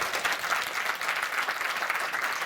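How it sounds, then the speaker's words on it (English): An audience at a hacker conference talk breaks into dense, steady applause, a continuous wash of many hands clapping at moderate distance that fills the whole moment without a voice over it. "give a big applause"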